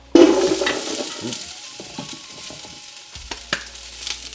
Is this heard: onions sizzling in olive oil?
yes